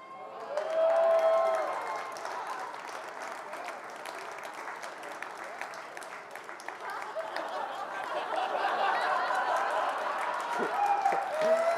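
An audience applauds steadily for about twelve seconds, the clapping swelling early, settling, then rising again, with faint voices and a chuckle mixed in.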